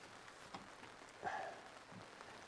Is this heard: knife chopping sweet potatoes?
no